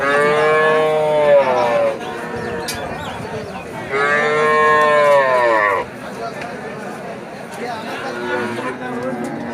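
A heifer calf at a cattle market gives two long, loud moos in succession, followed by a fainter third call, with people talking nearby.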